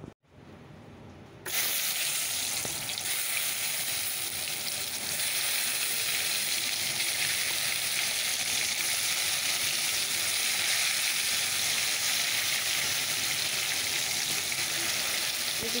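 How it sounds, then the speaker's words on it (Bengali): Eggplant slices hit hot oil in a kadai after a brief quiet moment, then sizzle and fry with a loud, steady crackling hiss that continues unbroken. "বেগুনটুকু আগে ভেজে নিই।"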